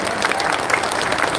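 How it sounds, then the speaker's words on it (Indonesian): An audience at a volunteer rally applauds for a list of named people, a short burst of dense, steady clapping. "Tepuk tangan untuk semua yang nama-nama tersebut di sini"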